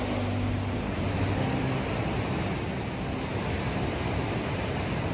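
The Baga River near Jispa rushes past a riverside tent as a constant, loud broadband roar, steady and unbroken with no voices.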